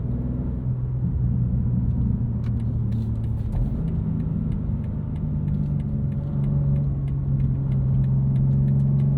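A 2023 BMW M2 with a six-speed manual being driven, its steady engine drone and road rumble heard from inside the cabin, with small pitch shifts as it cruises and no one speaking.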